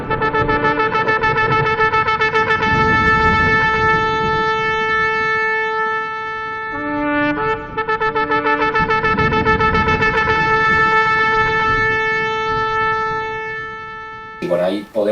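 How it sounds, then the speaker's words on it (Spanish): Shofar sounds the teruah, a rapid string of short staccato blasts on one bright horn tone. It keeps up almost continuously with a brief pause midway, loud over faint background noise. "Teruah, la alarma, son 9 notas pequeñas o más en staccato, en una rápida sucesión"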